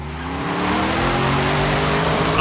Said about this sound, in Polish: Samochód już lata sobie bokiem